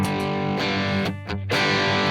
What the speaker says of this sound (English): this is the third setting, which is the distortion setting